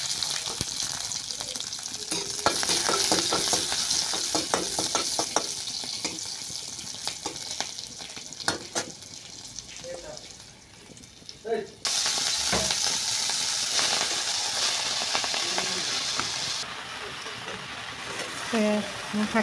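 Sliced onions and split green chilies fry in hot oil in a pan, giving a loud, steady sizzle with occasional utensil clatter and a short dip midway.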